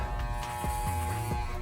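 Electric hair clippers fitted with a number 1 guard buzz close and steady while cutting hair during a self-haircut, with the motor pitch dipping briefly as they pass through.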